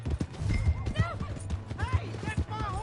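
A horse's hooves clip-clop in a steady quick rhythm in the Western game Red Dead Redemption 2, close and loud with other game sounds, and a brief whinny may rise among them.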